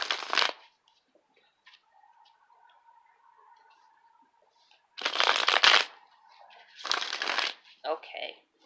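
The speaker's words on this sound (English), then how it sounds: "I'm just going to shuffle a couple times." Tarot cards shuffled in two brisk, riffling bursts, close up, separated by a quiet stretch with faint background hum.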